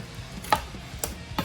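A knife slices through smoked pork belly cooked brisket style on a Pit Boss Lockhart, with three short crisp cuts spaced apart over a quiet background.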